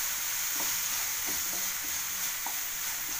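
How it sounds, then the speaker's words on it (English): Potato and garlic roast and sizzle in a pan with a steady, hissing fry. A few soft scraping taps of stirring sound close by, with no talk. "Now give it a good stir. And let it roast for some time."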